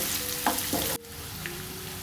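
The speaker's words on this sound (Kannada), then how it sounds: "ಚೆನ್ನಾಗಿ ಫ್ರೈ ಮಾಡ್ಕೋಬೇಕು ಇದನ್ನು" Tomato gojju for chitranna frying in a pan, a steady close sizzle with a couple of brief stirring scrapes, dropping to a quieter crackle partway through.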